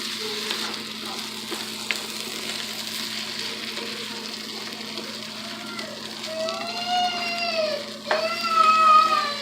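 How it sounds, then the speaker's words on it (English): Chorizo fries in a pan while being stirred, giving a soft, continuous sizzle with occasional scraping. A voice starts talking faintly near the end. "And then we are going to give it a good mix so that we can incorporate it all together."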